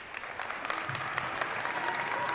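Applause fills a high school gym at a basketball player's jersey retirement ceremony, a steady patter of many hands clapping at moderate distance without a break.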